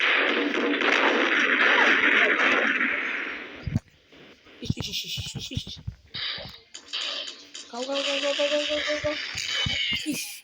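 A grenade launcher fires in a video game with booming, muffled blasts and bursts of gunfire-like game effects, some separated by brief gaps, while a voice talks over parts of it.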